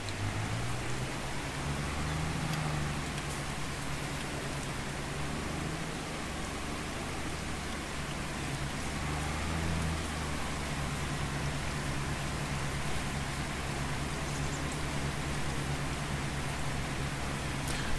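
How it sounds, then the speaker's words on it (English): Steady rain in Farming Simulator 22 falling over farm fields, a constant broadband hiss with a low rumbling bed, continuous and even throughout with no talking. "I do like the way it goes darker when the rain does start."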